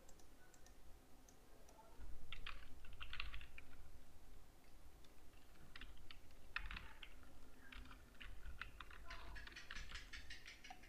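Keys tapped on a computer keyboard while entering a PIN, coming in short quiet bursts of clicks with pauses between them over a low background hum.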